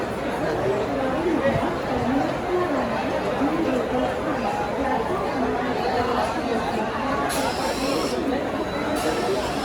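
A dense crowd packs a local train at Thane station, with many voices in a steady, loud babble of overlapping talk and no single speaker standing out.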